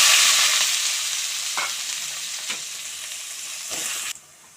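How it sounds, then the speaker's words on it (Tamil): Mustard seeds, urad dal and chopped onion fry in hot oil with a steady, loud sizzle, broken by a few stirring scrapes of a spoon against the pan before the sound cuts off near the end. "எண்ணெய் நல்லா காஞ்சிடுச்சு கடுகு போட்டுப்போம் கொஞ்சோண்டு உளுத்தம்பருப்பு கட் பண்ணி வச்சுருந்த வெங்காயம்"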